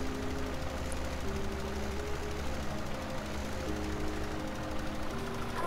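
A tractor engine in Farming Simulator 17 drones steadily at a low, even idle-like rumble, close and constant for several seconds with no talking.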